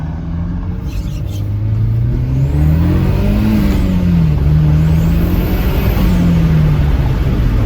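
A turbocharged car with a front-mount intercooler revs up hard and accelerates, a loud rumbling roar rising in pitch with gear shifts, whine audible over the drone.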